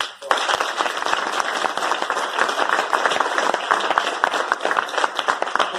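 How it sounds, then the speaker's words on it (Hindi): Office audience clapping at a company marketing function in Goa, a dense steady roar of many hands with sharp individual claps throughout, holding strong for nearly six seconds. "आप लोग अपने लिए तालियां बजाओ।"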